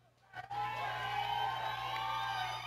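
A crowd cheers and whoops at the final of the Bailando por mi Barrio dance contest at Pista La Purificadora in Ixtapaluca, bursting in after a brief quiet start and then holding a loud, steady roar.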